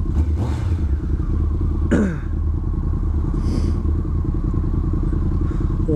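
A Honda CBR 1100 Blackbird motorcycle engine drones loudly and continuously while riding, a steady low rumble with brief scrapes and a rider's voice faintly heard over the wind.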